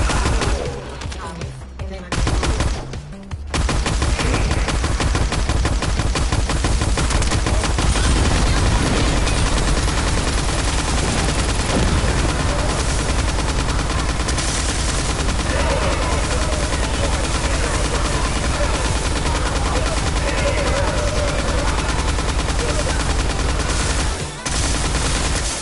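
Sustained automatic gunfire in The First Descendant, a dense, loud, continuous rattle of shots running almost without pause after a brief quieter start, with a voice briefly audible underneath.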